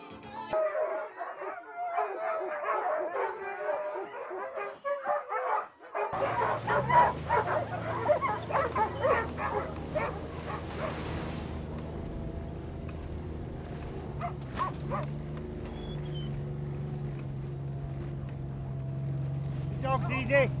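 Sled dogs on a specialised training wheel bark, yip and howl excitedly throughout, mixed with a steady mechanical hum and people talking nearby.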